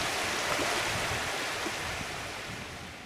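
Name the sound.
flowing water of Mineral Creek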